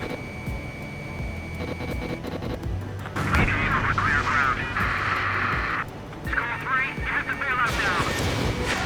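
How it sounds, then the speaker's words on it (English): A missile launches in Ace Combat 7: Skies Unknown, a loud rushing roar over droning jet engine noise that surges midway, with radio voices talking over the action. "Missile launched."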